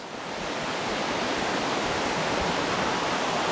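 Steady, dense roar of water pouring down a hidden forest waterfall near Paral, a continuous broadband wash that swells slightly at the start and then holds constant, with no voices.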